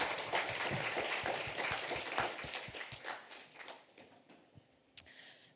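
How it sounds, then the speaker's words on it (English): An audience at a mental health research talk gives a round of applause, a burst of clapping that thins into scattered claps and fades out within a few seconds. "Everyone, round of applause."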